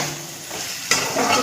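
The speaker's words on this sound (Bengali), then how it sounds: "আলু ভেজে রেখেছি, তো আলুগুলা দিয়ে দেবো।" Fried potatoes go into a pan of cooking beans, a soft sizzle and stirring scrape with a sharper clatter and rise in frying noise partway through, close by and alone.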